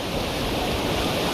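Sea waves wash onto Diveagar beach in the Konkan, a broad continuous roar of surf with wind noise, steady and fairly loud with no speech.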